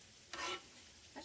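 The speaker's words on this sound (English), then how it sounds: "So I'm going to continue to stir this" A spoon stirs food in a pot during cooking, making a brief, faint scrape and sizzle near the microphone, followed by a second, quieter scrape.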